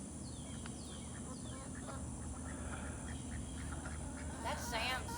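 A chicken fusses on grass with scattered short, squawking clucks over a steady background hum, while people talk nearby.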